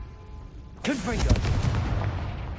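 A Confringo spell blast in the video game Hogwarts Legacy erupts suddenly after a quiet moment, a loud, booming burst with a whooshing magical swirl that rumbles and fades slowly.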